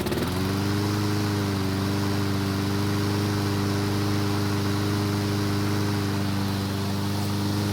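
A lawn mower engine that has just been started after a carburetor repair runs close by at a steady, even idle, a loud continuous buzzing drone with no talking.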